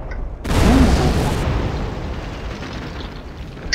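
An artillery piece fires in a Company of Heroes mod: one loud, broad boom with a rushing blast that fades slowly, followed by a faint distant report near the end.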